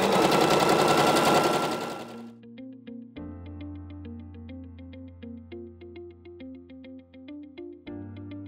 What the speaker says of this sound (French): on va venir piquer du coup tout le long à la machine